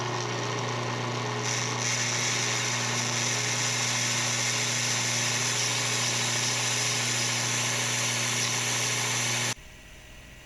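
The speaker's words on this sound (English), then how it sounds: "It turned out to be pretty easy to just grind the screws down on the belt grinder" Screws ground down on a belt grinder produce a loud, continuous high whine with steady tonal hum, running unbroken for most of the clip before cutting off abruptly near the end.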